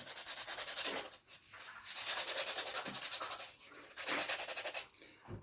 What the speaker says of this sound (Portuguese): Bem, é só seguir lixando aqui.